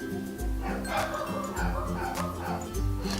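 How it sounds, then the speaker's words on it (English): Several dogs barking at night indoors, a run of loud, close woofs and yips repeating at irregular intervals, with a few whimpering notes between the barks. "my dogs are barking"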